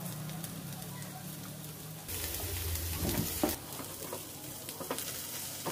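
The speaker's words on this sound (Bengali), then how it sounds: "এই তেলে এটা পুরোটা ভাজা হয়ে যাবে।" Water spinach and vegetables frying in oil in a pan, a soft continuous sizzle that swells into louder crackling with stirring scrapes partway through, heard without talk.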